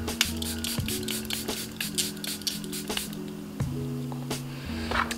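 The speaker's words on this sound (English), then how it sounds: "I'm gonna spray my face all again because this is the finished look" Setting spray misted onto a face, a series of short pumped hissing bursts close to the microphone, repeated quickly over soft background music.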